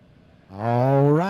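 An IMCA Modified race car at Monett Motor Speedway roars in after a near-silent start, its loud, harmonic engine note swelling and holding steady as it passes close by.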